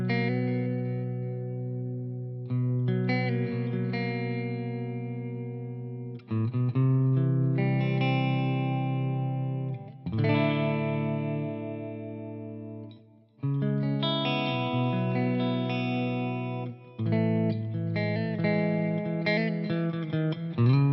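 Clean electric guitar through a Big Cali preamp model on a Line 6 Helix into a tube power amp, playing sustained chords and arpeggios, full and warm with light ambience, alone with no talk, phrases breaking briefly between strums.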